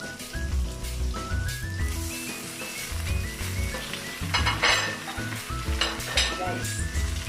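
Pork hits a hot pan and sizzles loudly and steadily, with clinks of utensils and stirring over the frying while music plays in the background.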